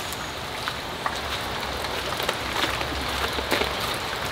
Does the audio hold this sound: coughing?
no